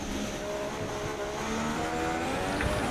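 A Haas Formula 1 car at Bahrain in F1 2016 accelerates hard, its engine whine steady and loud, climbing in pitch through the gears over a constant roar.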